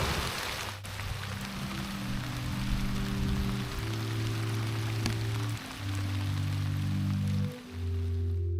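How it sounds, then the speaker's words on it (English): Steady rain falling for hours on cleared land in January, a continuous dense hiss with low droning tones layered underneath, no talk. "It's been raining steady like this for about 3 hours."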